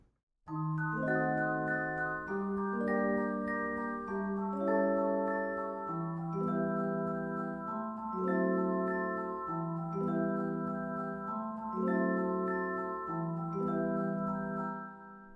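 An orchestral theme unfolds with harp and a rising high-string arpeggio doubled in celeste, delicate repeating note patterns moving through gentle chord changes, played alone without talk.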